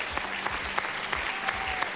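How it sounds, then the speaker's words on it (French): Studio audience on the French TV game show Mot de Passe gives a continuous round of applause, dense and even throughout, with no talk over it. "les applaudissements pour Benoît"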